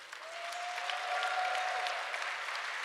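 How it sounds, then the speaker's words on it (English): Audience applause at an education humanitarianism forum, a steady dense wash of clapping from a crowd with a faint sustained whistle-like tone running through it. "can I just ask you guys all to applaud everybody?"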